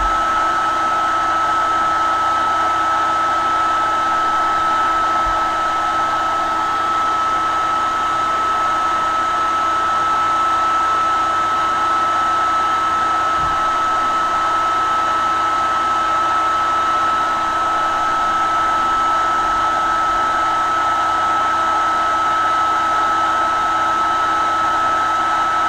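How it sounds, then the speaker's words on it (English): A hair dryer blows hot air onto the AMD video card of an HP Dv7 6197ca laptop, giving a loud, constant whooshing drone with a steady high whine that lasts the whole time without talk. "the massive amount of white noise that this blow dryer is putting off"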